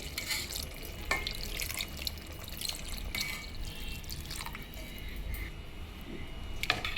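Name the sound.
glass of water poured into brinjal curry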